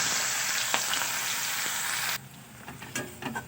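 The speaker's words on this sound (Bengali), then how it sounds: "এবার ওই মাছ ভাজা তেলের মধ্যেই আমি দিয়ে দেবো পেঁয়াজ কুচি।" Chopped onions sizzle loudly in hot oil left from frying fish, a dense steady crackle that drops to a quieter sputter partway through, with a few stirring clicks.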